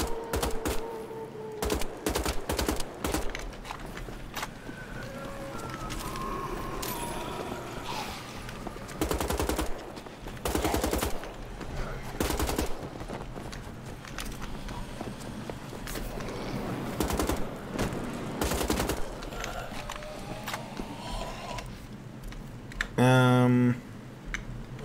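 Repeated bursts of automatic gunfire in the video game Wolfenstein The Old Blood, irregular volleys of rapid shots spread across the whole stretch, mixed with game effects and occasional talk.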